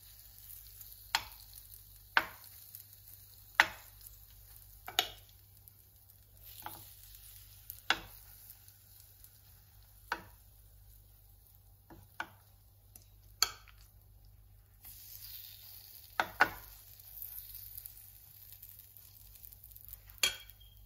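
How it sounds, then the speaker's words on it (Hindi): A vegetable sandwich mixture cooking in a hot pan gives a faint background sizzle, broken by scattered sharp clicks and scrapes of a utensil against the pan at irregular intervals. "ये जब गर्म हो जाएगा तो इसके अंदर हम अपना जो हमने मिक्सचर बनाया है वो डालेंगे"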